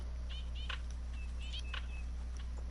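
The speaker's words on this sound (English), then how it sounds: "You hear the birds flying?" Birds flapping up and flying off in theHunter: Call of the Wild, heard as a few faint, short chirping calls and brief bursts over a steady low hum, with no talking.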